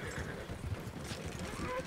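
A horse in the video game Red Dead Redemption 2 Online, its hooves clip-clopping steadily throughout under a background of voices talking.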